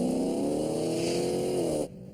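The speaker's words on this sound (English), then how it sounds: "But listen to the engine." A car engine accelerates hard on a driving course, revving loud and close with a steadily rising pitch, then cuts off abruptly near the end.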